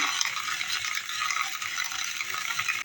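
Eggs seasoned with salt and a little pomegranate molasses being stirred in a bowl, a steady scraping, rattling whisk sound, close and continuous with no talking.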